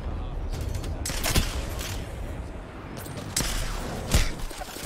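Gunfire in a video game, a few sharp shots with bursts at irregular intervals over a steady noisy background, fairly loud and close, with no one talking over it.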